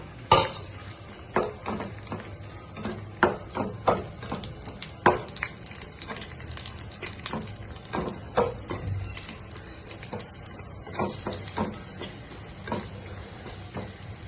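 Cashews and raisins sizzle in a hot pan while being stirred for Onam wheat payasam, with steady frying crackle and repeated scraping clinks of a spoon against the pan, close and fairly loud with no talking.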